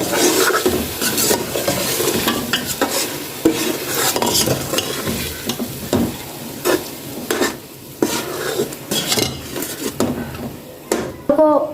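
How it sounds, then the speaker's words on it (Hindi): Red chili powder, salt and turmeric fry with softened tomatoes in a pan for mutton shalgam, a busy sizzle broken by repeated scraping stirs and spoon clinks throughout. "2 से 3 मिनट के लिए इन मसालों को भूनेंगे।"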